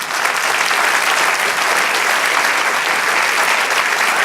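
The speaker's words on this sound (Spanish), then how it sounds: "Dale aplauso al Señor." Sustained, loud applause from a church congregation fills the space, a dense steady wash of clapping that stays even throughout without a break.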